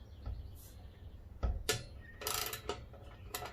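A socket wrench working the blade bolt on a DeWalt DW708 12-inch miter saw, producing a few sharp metallic clicks and ratcheting ticks close up, spaced irregularly over a quiet background.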